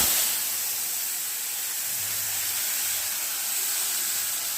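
Spice paste thinned with water sizzles steadily in a hot pan while soya curry cooks, a loud, continuous broadband hiss with no pauses and no talking.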